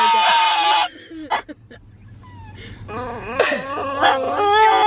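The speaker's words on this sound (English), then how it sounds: "That's how a normal dog barks over there" A dog gives a run of high, yelping barks and whiny, drawn-out howls, close by and fairly loud, with short pauses between bursts.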